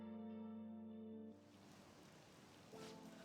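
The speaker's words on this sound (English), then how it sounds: "It's raining, buddy." Steady rain hisses in the video game Persona 5 Royal. A soft background melody fades out early, leaving a constant, even patter that carries on alone.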